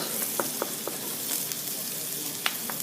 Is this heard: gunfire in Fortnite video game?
no